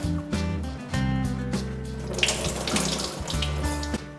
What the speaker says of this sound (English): I'm going to soak it up with some water